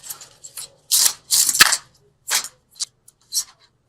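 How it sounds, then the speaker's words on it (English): Angel cards are shuffled in a series of short crisp riffles and snaps, a few louder bursts spaced unevenly over a few seconds, close to the microphone with faint background hum. "Okay, keep shuffling."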